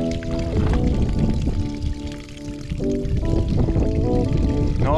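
River water being scooped and poured into a container for a camping stove at a riverside stop during a bicycle trip around Iceland, a close, steady splashing pour with brief dips in level.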